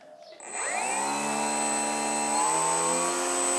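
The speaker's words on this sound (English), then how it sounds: "I'll rev the motor up a little bit." An RC model's electric motor winds up from rest and holds a loud, steady high-pitched whine with rising harmonic tones, running alone and close by.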